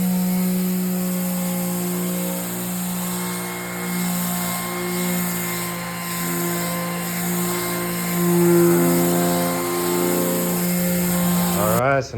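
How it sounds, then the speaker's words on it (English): A power sander smooths a wooden noodle board stove cover, a steady, droning motor whine with a constant pitch that runs the whole time and cuts off sharply at the end. "I'm going to go through and I'm going to start smoothing all this out now"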